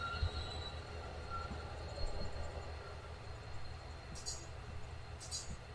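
In the Run8 train simulator, a passing train rumbles steadily and faintly from a distance, with a low rolling drone and brief high wheel squeals near the end.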